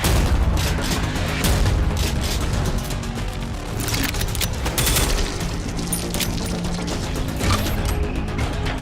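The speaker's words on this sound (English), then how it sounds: "The handgun's really good too." Handgun fire in the shooter game Prodeus, a dense loud run of rapid shots and mechanical clacks with short bursts, heavy booms and rattling, continuous and close with no talk.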